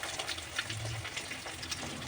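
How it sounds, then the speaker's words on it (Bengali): Bata fish pieces frying in hot oil, a few at a time: a steady, faint crackling sizzle with small pops, and no talking. "আবারও ছেড়ে দিলাম মাছ এক এক করে মাছগুলো ভেজে নিচ্ছি"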